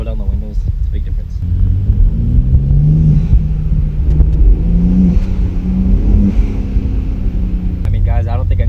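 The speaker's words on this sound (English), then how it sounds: "it's safe to say that these intakes sound absolutely ridiculous" BMW M3 fitted with front-mount intakes, heard from inside the cabin with the windows down as the engine revs and accelerates, a loud rising and falling mid-pitched rumble with brief talk at the start and end.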